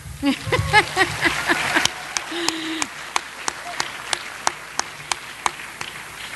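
Audience at an evening industry event claps briefly amid murmuring voices and a short cheer, then the applause thins to a few scattered, evenly spaced claps.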